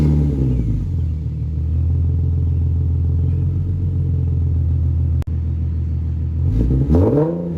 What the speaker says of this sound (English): listen to what this car sounds like today, right now, 1 year after the installation of this custom Catback system with the Borla Pro XS mid muffler and the Flowmaster FX resonators